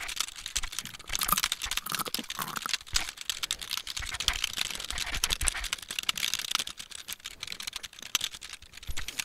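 Fingers type rapidly on a computer keyboard in dense, uneven bursts of clicking keys that carry on close and continuous, with no talking.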